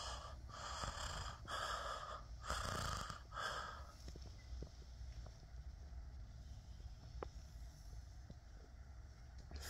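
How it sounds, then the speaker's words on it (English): A person breathing heavily close to the microphone, several loud in-and-out breaths over the first few seconds, then quieter steady breathing under a faint background hum, with no talking. "You should just be able to hear me breathing now."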